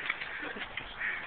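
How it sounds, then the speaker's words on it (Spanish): Two ducks give a short burst of quacking, close and fairly loud against a muffled outdoor background, lasting barely more than a second. "Dos patos."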